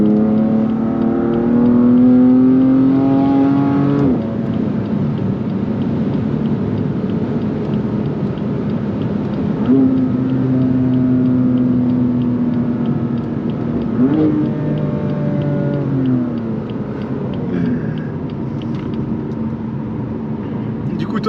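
A BMW M3 CS with 580 horsepower revs and accelerates in a series of rising engine pulls, loud and close from inside the car. The engine drops back between surges, and voices can be heard in the cabin.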